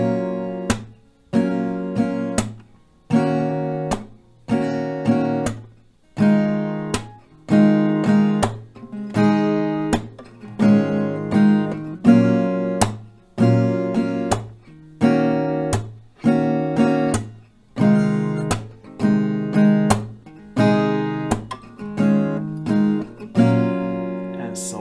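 Acoustic guitar strums through the chord pattern of a song, steady rhythmic strokes with clear pauses between groups, played alone at close range.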